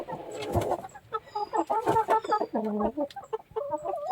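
Backyard hens and young roosters cluck close by, a busy run of short pulsing calls and a few longer drawn-out notes that overlap one another, loud and near with no talk.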